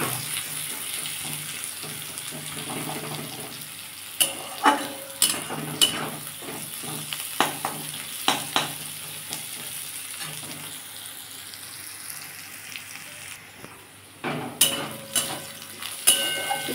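Slit green chillies fry in oil with onion, a moderate steady sizzle broken by sharp clicks of a utensil stirring against the pan.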